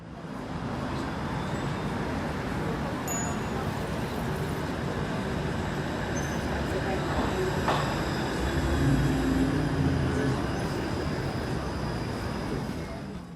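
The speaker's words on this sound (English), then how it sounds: "And then there's a tram, and then there was a street." A tram rolls along a city street, a continuous broad rumble of wheels on rails mixed with traffic noise, steady and moderately distant for over ten seconds with a faint squeal partway through.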